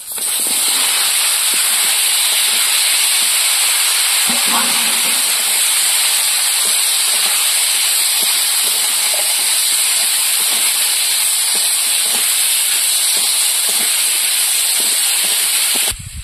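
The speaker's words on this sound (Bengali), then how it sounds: "এবার কুমড়ো দিয়ে দেবো।" Pumpkin pieces tipped into hot mustard oil left from frying fish, with dried chilli and whole mustard seeds, for kumror chokka; a loud, steady broadband sizzle hisses without break for the whole stretch, close and continuous.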